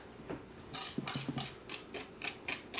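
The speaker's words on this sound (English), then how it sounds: "So you want to whisk that up a little bit." A whisk scrapes and clicks against a bowl while mixing a salt mixture for a gluten-free flourless chocolate cake, giving quiet, close, irregular metallic taps and rubbing strokes with no talking.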